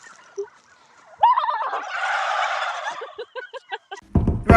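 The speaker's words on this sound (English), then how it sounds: "I wonder if these are chickens or turkeys." Turkeys or chickens in a short burst of gobbling calls, a dense warbling clamor in the middle followed by several quick separate clucks, then a louder clatter at the end.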